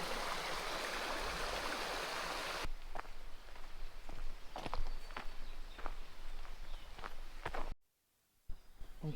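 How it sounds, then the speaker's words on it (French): A small stream running through a little waterfall beside a small bridge on a hike near the Ardennes village of Linchamp, a steady broadband rush at first, then quieter flowing water with scattered footsteps and rustles, cutting briefly to silence near the end. "Petit cours d'eau."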